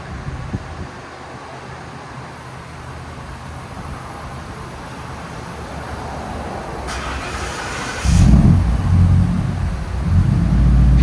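A 2017 Ford F250 with a 6.2-liter V8 and aftermarket exhaust idles with a low, even rumble, growing heavier and louder toward the end after a brief wind hiss.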